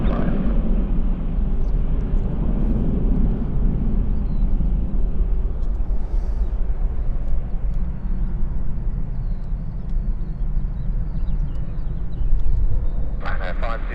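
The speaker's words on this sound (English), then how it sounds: "Lovely smooth takeoff there of Ryanair." A Ryanair airliner takes off from Stansted Airport with a steady, loud, broadband jet roar that holds throughout, while a voice talks over it.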